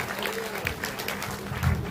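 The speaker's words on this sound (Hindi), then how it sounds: "बजाना है तो तालियां आगे से पीछे तक एक बार जोरदार बजा करके बताइए" Audience clapping loudly at a Hindi comedy poetry gathering, a hasya kavi sammelan, a dense wash of many hands with a swell near the end, with a voice or murmur mixed in underneath.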